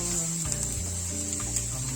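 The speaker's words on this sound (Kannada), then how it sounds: "ಸೊ ಇವಾಗ ಚೆನ್ನಾಗಿ ಎಣ್ಣೆಯಲ್ಲಿ ಅದು ಫ್ರೈ ಆಗಬೇಕು." Dry-roasted spice powder frying in hot oil for tamarind chitranna, a steady close sizzle with faint stirring scrapes, alone with no voices.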